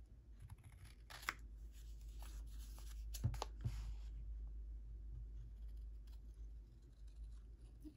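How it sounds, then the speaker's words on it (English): Scissors trim paper for a handmade gift card holder in a craft session, giving soft close snips and crisp cutting sounds that come and go over a low steady hum, with no talking. "I'm just going to use my scissors and trim,"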